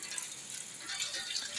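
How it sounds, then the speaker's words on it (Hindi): Rainwater dripping through a leaking roof into a home kitchen during heavy rain, a soft, faint patter of drops and trickling water with no voices. "किचन में पानी टपक रहा है"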